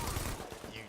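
Gunfire from the video game The Division comes as a short burst of rapid shots that blurs into one dense, fairly quiet rattle lasting under a second.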